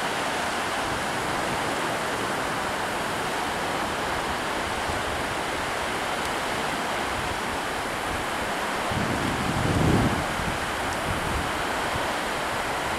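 Baltic Sea waves wash onto the shore at the Riga seaside in September, a continuous broad roar of surf with wind noise and a slightly louder breaking swell toward the end.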